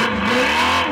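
A brief, loud burst of simulated combustion-engine exhaust rumble plays from an external speaker fitted to a Tesla Model 3, sounding like a revving car up close.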